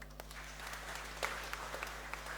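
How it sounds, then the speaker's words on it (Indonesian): Church congregation clapping during a homily, a faint, distant patter of scattered claps spread evenly through the moment without voices over it. "Tepuk tangan dong."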